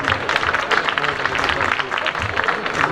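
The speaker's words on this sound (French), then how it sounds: "Allez, on les applaudit." Audience applauding at a gymnastics demonstration, a dense, steady clapping that fills the room, with voices mixed in underneath.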